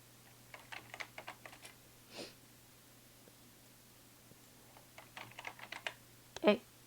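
Code tapped out on a computer keyboard during C++ programming, with faint, scattered keystrokes in two short runs over a steady low hum and a soft rustle near the end.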